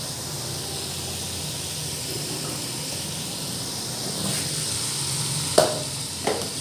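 Potato and pea curry sizzling in a pan, a steady soft hiss with a few sharp clinks of a utensil near the end, with no voices.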